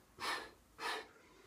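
Two close, audible breaths taken during a chi kung exercise, each a soft airy rush lasting about a third of a second, evenly spaced in a quiet room.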